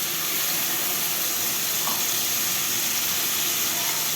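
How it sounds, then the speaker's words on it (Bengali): Water goes into a hot cooking pan with large fish, giving a steady, even hiss and sizzle that holds at the same level throughout without voices. "সেখানে একটু পানি দিব"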